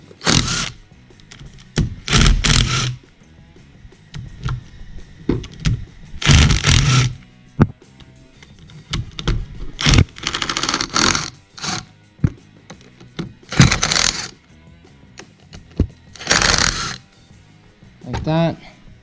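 Bolts being loosened and backed out of the flywheel cover on a 2004 Yamaha YZ250F engine, with close ratcheting and clicking bursts in short repeated runs, mixed with talking.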